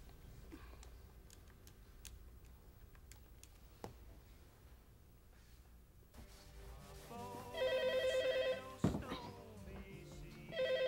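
Telephone in a Korean household drama ringing in repeated electronic trills after a quiet stretch of faint clicks and handling sounds, fairly close and clear with no talking over it.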